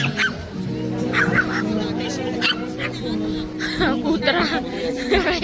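Ducks quack and honk in short, nasal calls close by in Herăstrău Park, Bucharest, mixed with some yipping and people talking in the background.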